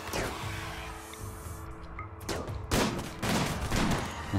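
Gunfire in a colony-building video game, a dense fusillade of shots with broadband bursts around a brief lull, steady and fairly close throughout.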